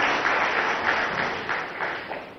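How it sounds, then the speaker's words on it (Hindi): An audience at a live stage event in Chhattisgarh breaks into loud applause, many hands clapping in a dense steady wash that swells and slowly fades over a couple of seconds, with no voices over it. "पहले एक जोरदार ताली बजा के इनका स्वागत करिए।"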